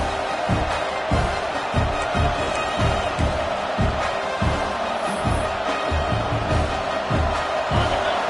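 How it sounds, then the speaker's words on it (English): Loud football stadium crowd at Michigan versus Iowa, a roaring wall of cheering and noise with rhythmic thumping bursts as fans try to disrupt the offense on first and goal. "This offense trying to quieten the crowd on 1st and goal, and they are not cooperating."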